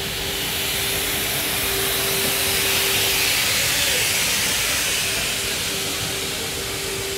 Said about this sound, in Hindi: Most powerful locomotive of India भाई।